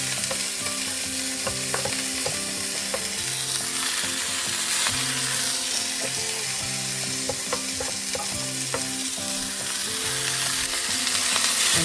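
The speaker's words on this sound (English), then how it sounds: "now I will add a little bit of oil, and then I will add my greens to the mix. Good. Fry it up just a little bit." Garden greens fry in oil in a pan for scrambled eggs, giving a continuous sizzle with irregular crackles and the periodic scrape and clatter of stirring over a steady low background.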